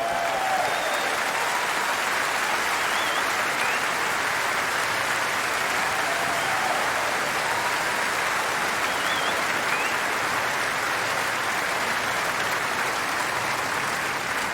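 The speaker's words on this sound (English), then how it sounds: "Give her an enormous applause." A large concert audience applauds a singer at a show, a dense, loud, unbroken roar of clapping that holds steady from start to finish.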